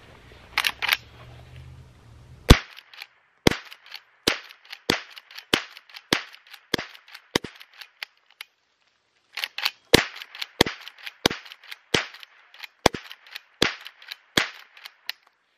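A Henry 001 .22 caliber rifle fires a rapid string of sharp, cracking shots, a first burst of about eight and then a second burst after a short pause, each report loud and close with no talking.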